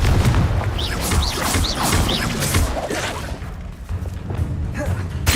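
A Confringo fire spell explodes in Hogwarts Legacy, played on hard mode, amid a busy run of booming blasts, thuds and swooshing spell effects that pile up quickly and loudly.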